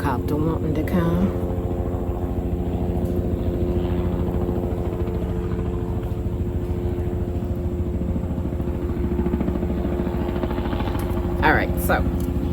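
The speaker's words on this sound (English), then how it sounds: "helicopter wanting to come" A helicopter approaches over a container garden, its low rotor throb and engine drone steady and moderately loud throughout, with brief nearby clatter at the end.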